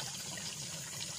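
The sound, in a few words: spring water flowing from the ground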